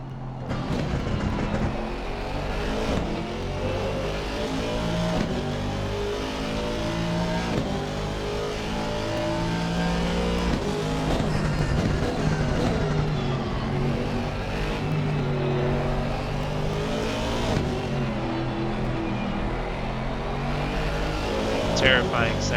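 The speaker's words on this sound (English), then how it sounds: "Terrifying sounds of the Aston Martin." An Aston Martin GT3 race car engine revs and shifts through gears while racing at Oulton Park, a continuous loud engine roar with rising and falling pitch, with commentary talking over it.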